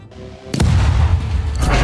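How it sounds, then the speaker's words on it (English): In the TABS video game, a bomb on a stick blows up as a single sudden loud blast after a quiet moment, followed by a thick, booming rumble that stays heavy to the end with no talking. "Blows up."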